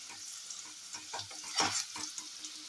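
Potatoes frying in a pan for a chicken curry, giving a steady close sizzle with occasional stirring scrapes and a brief louder burst midway.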